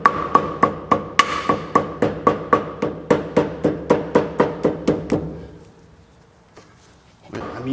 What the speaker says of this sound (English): Right now I'm just hammering around to make a mark on the outside of our carrier flange